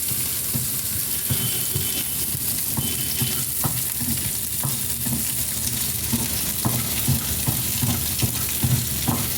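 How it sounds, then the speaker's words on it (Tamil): Urad dal frying in hot oil in a pan, a steady close sizzle running throughout with faint stirring scrapes and ticks scattered over it. "இப்போ நல்லா ஃப்ரை பண்ணுறோங்க. நல்லா ஃப்ரை ஆகுது."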